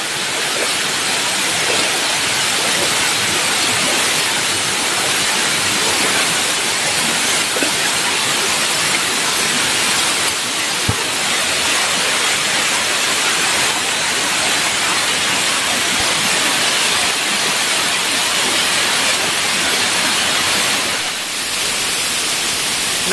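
The Maccading waterfall in Bone, South Sulawesi, roars loud and close, a dense, unbroken wash of rushing water that runs the whole length without pause and without any voices.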